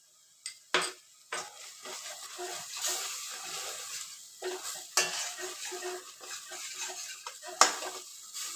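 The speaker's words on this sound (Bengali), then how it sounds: "সারাক্ষণ এই খুন্তিটা নাড়তে হবে।" A spatula stirs cashew and poppy seed paste in a pan, with repeated close scraping and clinking strokes against the metal in an irregular rhythm over a faint sizzle, no talk.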